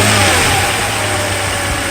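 A Mercedes S600 engine with a repaired throttle and electronic throttle unit runs steadily up close under test, with a mild rise in revs and a constant broadband roar throughout the short stretch.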